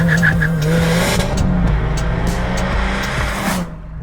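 Boxer four engine of a new Subaru WRX fitted with the optional sports exhaust, a loud close rumble with rising revs and tyre squeal, steady throughout and easing near the end, with no talk over it.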